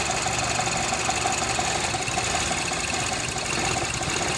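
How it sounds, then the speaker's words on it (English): A Mazda CX-7 engine with a P2177 lean fault stumbles and runs rough as MAP gas is fed in, giving a steady close mechanical drone with uneven knocking pulses and no voices. "you're going to start to hear the engine stumble"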